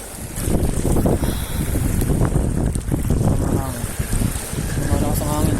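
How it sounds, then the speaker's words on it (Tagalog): Strong wind buffets the microphone during shoreline fishing, rumbling in heavy gusts throughout, with water lapping and people talking faintly underneath. "Malakas ang hangin."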